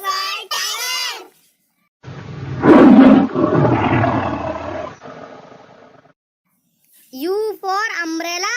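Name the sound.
tiger roaring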